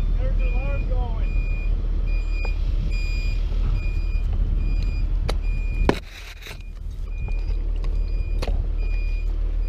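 Reversing alarm on a crane truck during large dead tree removal, a steady series of regular beeps repeating over constant engine rumble, with a brief loud clunk partway through and a voice talking early on.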